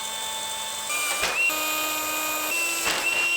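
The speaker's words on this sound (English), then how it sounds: "we're going to drill a pilot hole first" A power drill bores a pilot hole for a DIY ice-fishing track sled build, its motor whining steadily at a high pitch with a few brief dips as the bit bites in, loud and close with no talk.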